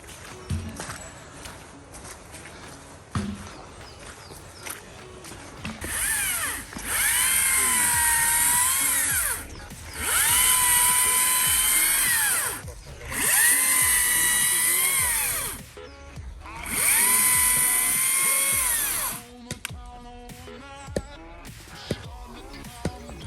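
Electric chainsaw cutting wood outdoors, its high whining motor rising in four sustained loud bursts separated by brief pauses, with no two-stroke engine sound.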